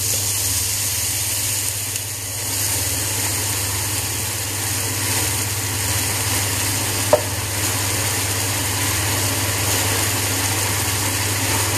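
Strips of turkey sizzle in a pan after a splash of white wine, a loud steady fry hiss running throughout with one short scrape partway through and no talking.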